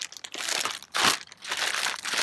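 Cake batter made with crushed pineapple and an egg is squeezed and mixed inside a plastic bag, giving close, loud crinkling and crunching bursts in irregular rhythm.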